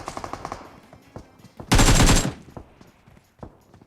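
A short burst of rapid automatic gunfire in an online battle royale video game, loud and dense for about half a second. Scattered lighter game sounds and clicks come before and after it.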